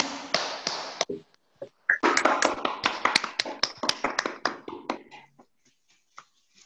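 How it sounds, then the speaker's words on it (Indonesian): Students in a classroom clap their hands after a lesson, a burst of sharp close claps that thins into scattered, slowing taps before fading out, with a brief gap near the start. "tepuk tangan dulu untuk kita semua untuk pelajaran kita hari ini"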